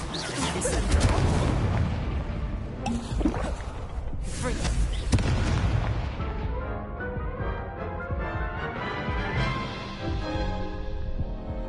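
A fire spell is cast in Hogwarts Legacy with dense, roaring bursts and booming layered effects over the game's background sound, gradually thinning into a softer tonal tail.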